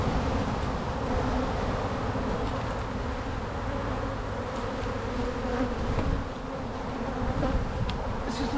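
Honey bees swarm around an open hive during an inspection, their dense, continuous buzzing filling the air close by at a steady level with no voices.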